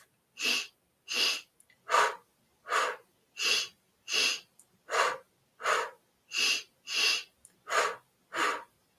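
Breathwork exercise breathing: about a dozen close, forceful breaths, each heard as a whooshing rush of air at an even, fairly quick rhythm with short silences between, and no talking.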